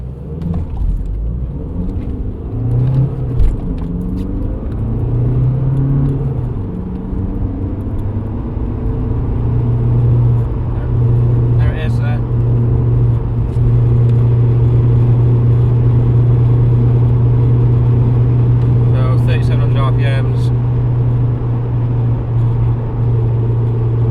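A 2007 VW Golf GT TDI with a BKD diesel engine hums steadily at about 3700 rpm, a constant loud low drone with tonal bands and some shifting pitch early on, heard from inside the car with no talking.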